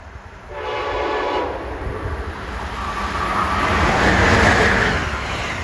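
Amtrak train 183, bound from New York to Washington, rushes past with a steady, loud rumble of rail cars that builds and swells toward the end, along with a faint horn tone.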